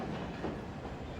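In the Alan Wake video game, a train rumbles past close by, a dense, steady roar of wheels and carriages filling the whole moment without a break.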